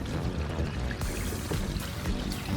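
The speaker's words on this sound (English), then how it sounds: "When you pull the handle, you will hear the liquids in your black tank come through the hose" Wastewater from an RV black tank rushes through the drain hose after the valve handle is pulled, a steady close pouring gush with sloshing, continuous throughout.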